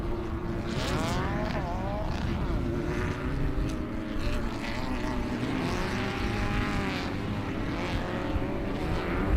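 Off-road race cars in a Class 11 short course race at King of the Hammers, engines rising and falling as they pass at middle distance, a continuous layered drone with shifting revs throughout.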